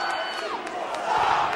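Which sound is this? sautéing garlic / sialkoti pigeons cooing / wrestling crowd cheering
wrestling crowd cheering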